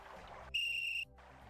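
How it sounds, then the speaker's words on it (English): A magic whistle blown in the Simon the Sorcerer video game: one clear, pure shrill tone lasting about half a second, bracketed by quiet background music. "It's a magic whistle."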